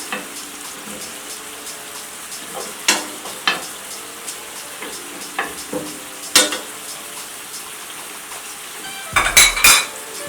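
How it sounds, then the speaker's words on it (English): Onions frying in a pan beside home-made burgers, a soft steady sizzle broken by several sharp scrapes and clanks of a utensil turning them, with a cluster of metallic knocks near the end. "So let's turn our onions."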